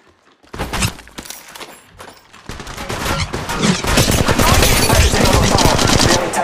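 Gunfire in the Apex Legends Mobile video game: after a few scattered shots comes sustained rapid automatic fire, loud and dense, that keeps on to the end.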